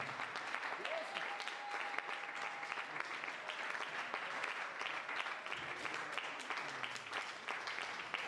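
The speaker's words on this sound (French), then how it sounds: "Est-ce que tu peux acclamer plus fort que ça?" A crowd at a church gathering cheers and applauds without pause, a dense, even wash of clapping and shouting that fills the whole space at steady loudness.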